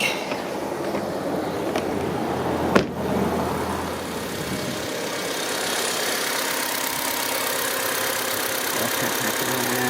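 A 2005 Honda Civic, just after a cylinder cam plug replacement, cranks and catches with a sharp burst, then settles into a steady, even idle hum that continues close by.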